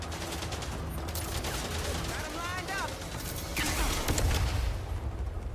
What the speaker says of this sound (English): it's a rocket launcher, I guess